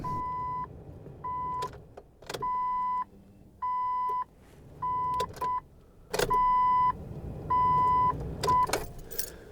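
A 1997-2001 Jeep XJ repeatedly cycled with the key to prime its fuel pump after a fuel line replacement: several steady electronic chime tones sound in timed bursts, with a faint whirring hum and a few clicks between them, close by.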